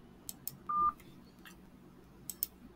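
A single short telephone keypad tone, the pound key pressed on a phone connected to a FreePBX system, sounds once amid faint background hiss and a few soft clicks.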